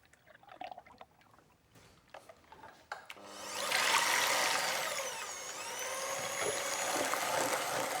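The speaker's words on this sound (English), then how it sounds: "So I got some double cream here, and I'm going to whisk it." Double cream being whisked for a pistachio and Cointreau syllabub, a few scattered knocks and clatters giving way to a loud continuous whirring electric whisk close by that wavers in pitch and runs steadily to the end.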